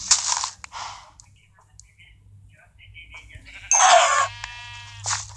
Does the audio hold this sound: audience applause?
no